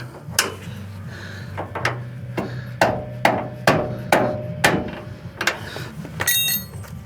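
Dead blow hammer striking a metal parking brake cable clip on a 1986 Chevrolet C10 pickup, around a dozen sharp, fairly regular knocks at close range against a low background hum.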